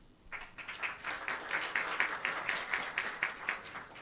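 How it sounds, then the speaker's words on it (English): Quiet, rhythmic applause for student clubs at a Vesak Day academic event, a small group clapping in fairly regular beats at some distance. "please give a big round of applause from the Bhutanese student clubs"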